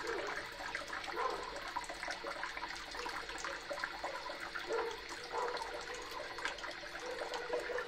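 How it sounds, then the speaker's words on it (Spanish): Toilet tank refilling with water after a new flush valve is fitted, a steady rushing and trickling hiss of moderate loudness that carries on throughout without a break. "Ahí está llenando agua, está llenando agua."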